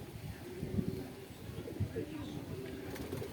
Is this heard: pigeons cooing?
yes